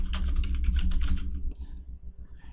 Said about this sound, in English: type a name for the restore point